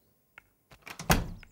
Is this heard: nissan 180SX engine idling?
no